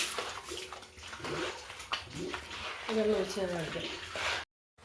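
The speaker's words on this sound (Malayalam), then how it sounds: "നമ്മൾ വെള്ളം ഒഴിക്കുകയാണ്" Water is poured over a mossy floor during washing, a steady splashing rush that runs beneath a person talking throughout and stops abruptly near the end.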